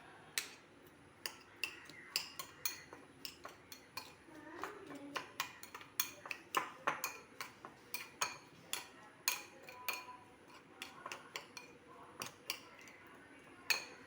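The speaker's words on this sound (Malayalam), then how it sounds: "ഇനി ഇത് നമുക്ക് നല്ലതുപോലെ മിക്സ് ചെയ്തെടുക്കാം" A spoon mixing sandwich filling in a bowl, with a chilli powder and salt mixture added: quiet, irregular clinks and taps against the bowl repeat throughout at close range.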